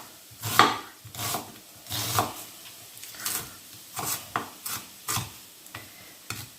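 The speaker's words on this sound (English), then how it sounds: "I'm just dicing 1 small onion" A knife dices one small onion on a board for a pork and chickpea stew, giving about a dozen crisp, close chops in an uneven rhythm with short scraping rubs between them.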